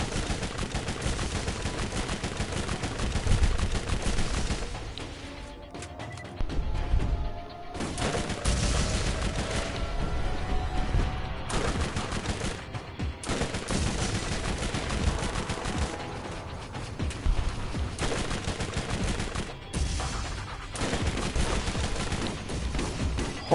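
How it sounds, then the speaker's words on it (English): Sniper rifle fire within a chaotic shooter game battle, a dense, continuous barrage of loud gunshots and booms layered over constant game noise with no pauses. "this fucking sniper rifle is good"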